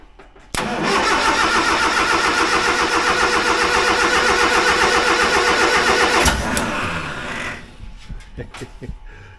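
Engine cranking and catching on a 1963 Hillman Super Minx after fuel is pumped in by hand: a sharp start, then about six seconds of loud, steady running before it dies away into sputters and faint knocks.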